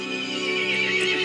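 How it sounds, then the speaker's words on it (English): A horse in the video game Resident Evil Village gives a sustained, loud whinny that wavers and rises toward the end, heard up close and alone. "The horse grew angry and summoned the other monsters."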